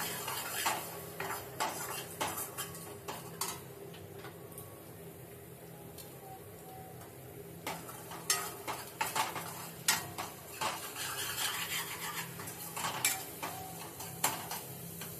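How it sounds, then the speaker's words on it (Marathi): Malvani masala spices being sautéed in a pan for a black pea usal, heard as a faint steady sizzle under repeated clinks and scrapes of a spoon against the metal pan, with no talking. "मसाले परतून घेऊया"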